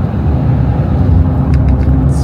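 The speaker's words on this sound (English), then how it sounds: "this is a nice dually truck right here" Ford F450 dually pickup truck rolling by on a street, a loud, steady low engine and tire rumble that stays close for the whole stretch.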